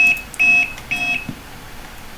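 An old computer sounds a system alert, three loud high-pitched electronic beeps in quick succession, each short and steady, followed by quiet room noise.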